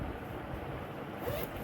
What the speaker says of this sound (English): And I like the double zipper.